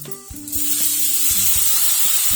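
Chopped tomatoes fry in a pan for a pumpkin and dal sambar, a loud steady sizzle that swells after a brief clatter and continues close and constant.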